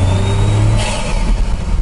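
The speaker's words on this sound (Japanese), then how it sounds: "うるさい、あのコーって音がねかなりすごいですよね、 あの吸気音自体はね" A Honda S660 fitted with a BLITZ air cleaner and suction pipe kit revs on the move, its loud engine intake roaring and whooshing as it accelerates, heard from inside the car.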